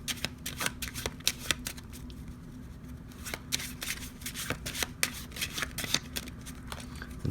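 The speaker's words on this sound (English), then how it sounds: "Then we're going to shuffle the deck." Crisp riffling bursts of a card deck being shuffled, several quick flurries separated by short pauses, close and clear.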